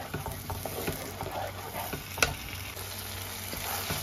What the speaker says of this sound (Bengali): এটা দিয়ে আরো 1 মিনিট কষিয়ে নেব